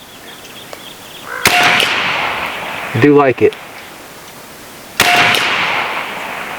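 Two sharp, loud shots from a BinTac B&W S45 .457 caliber big bore semi-auto air rifle, spaced a few seconds apart, with a brief mechanical clack between them and a voice speaking.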